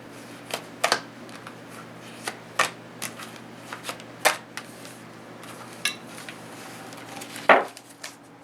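Tarot cards being shuffled by hand, with soft riffling under a faint background hum and a series of sharp slaps and flicks scattered irregularly, close and fairly quiet.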